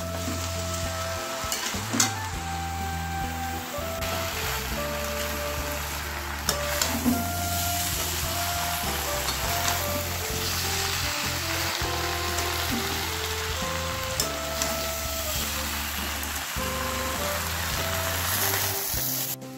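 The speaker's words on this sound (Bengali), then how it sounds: "এবারে এর মধ্যে আমি ভেজে রাখা সবজিগুলো দিয়ে দেবো আর খুব ভালোভাবে এগুলোকে আর একটু ভালোভাবে ভেজে নেব।" Vegetables for vegetable khichdi frying in a pan, a steady, close sizzle that runs the whole time, with occasional stirring knocks and no voices.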